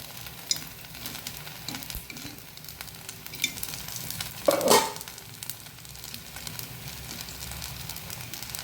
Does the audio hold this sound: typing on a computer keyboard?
no